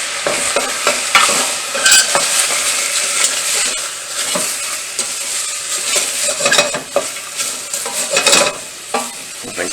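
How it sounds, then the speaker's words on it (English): Smoked paprika is stirred into food frying in a pan for caldo verde soup, making continuous close scraping and shuffling strokes over a loud, steady sizzle, with no voices. "Give that a stir."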